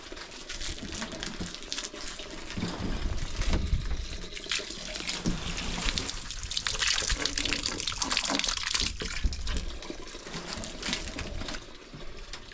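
Water runs steadily from a tap in remote Alaska, a continuous close splashing stream with slight surges, alone without talk.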